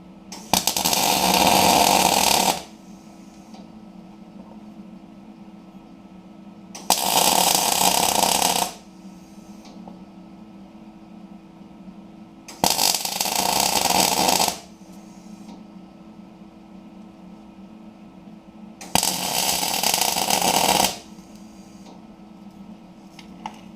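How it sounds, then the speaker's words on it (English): Four separate spot welds on metal parts of a Mazda RX8 being converted to electric, each a loud crackling buzz of about two seconds, separated by quieter pauses of several seconds. "what you have seen me do there is to put 4 spot welds 180 degrees apart"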